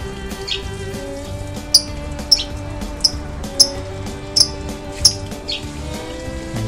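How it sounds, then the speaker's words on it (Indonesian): A small lovebird chirps in sharp, high tweets repeated at a steady pace, about eight calls, over a faint constant hum. "keren ya lovebird ini."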